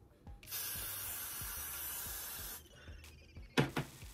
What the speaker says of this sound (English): Just really go in with that spray.